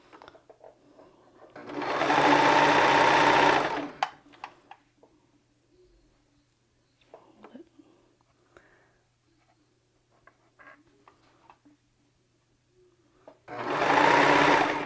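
A sewing machine stitches clear elastic onto a garment neckline in two steady, close bursts of rapid mechanical whirring, separated by a long quiet pause filled with faint handling clicks and rustles.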